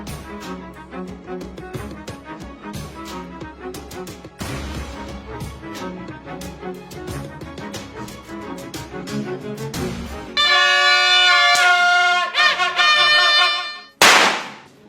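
Firecrackers are thrown during a household celebration. Irregular sharp pops and crackles go off, then a dense rapid burst of loud bangs, with a final close blast near the end.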